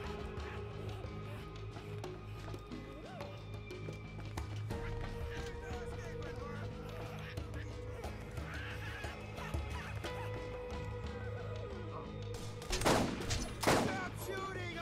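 Gunfire in the video game Borderlands: two short, sharp bursts of shots near the end, cutting through a steady layer of game ambience.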